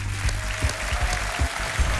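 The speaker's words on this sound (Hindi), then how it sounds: "तालियों के साथ उनका परिचय हो जाए।" A studio audience on the KBC quiz show claps to introduce contestants, a steady moderate applause with rhythmic thumps of music running beneath it.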